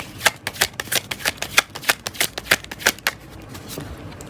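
Tarot cards shuffled by hand in a steady run of about a dozen crisp, riffling slaps that trail off near the end, close up with no talking.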